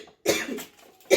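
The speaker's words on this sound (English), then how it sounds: "My cough decided to catch up with me today" Two harsh coughs, close and loud, separated by a brief pause and a softer throaty breath.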